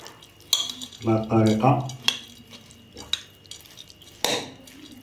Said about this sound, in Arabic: ودابا كنخلطوا المكونات كاملين حتى كينسجموا